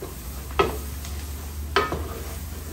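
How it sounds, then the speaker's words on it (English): Onions sweat in a pot for alligator sauce piquante, giving a low, soft sizzle with two distinct scrapes of a utensil stirring against the pot, close and without talk. "Sweat them onions down, dude."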